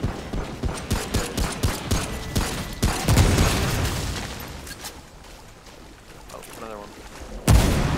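Gunfire in the video game Remnant: From the Ashes, a rapid string of sharp shots in the first few seconds, then a heavier burst and a rumbling tail, ending with one more loud hit. A voice talks over part of it.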